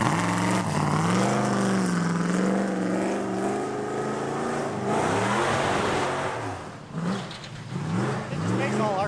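Junker rally car engines rev, including a 318, with rising and falling pitch sweeps that are loud and close, mixed with people talking over the engine noise.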